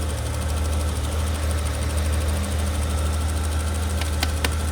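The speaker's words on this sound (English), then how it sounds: "I touched every single nut and bolt on this engine and this car, and it fired up from the first." A restored BMW E31 850 with its V12 engine idling, warm after startup, a steady, even low rumble held throughout, with a brief ticking near the end and no talking.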